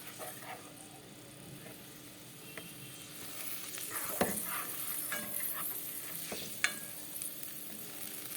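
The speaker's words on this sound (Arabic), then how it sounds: "هحط معلقة سمنة بلدي محترمة كده واخليها تسيح كده" A generous spoonful of country ghee melts in a hot pan, giving a steady soft hiss and sizzle with a few sharp clinks of a spoon against the metal.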